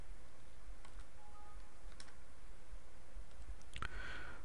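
A few faint, sharp computer mouse clicks come at uneven intervals against a quiet background.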